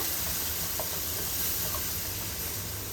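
Asafoetida and turmeric drop into hot oil for sev tameta shaak, giving a steady, dense hissing sizzle that holds at an even level throughout, close and unbroken, with no talk.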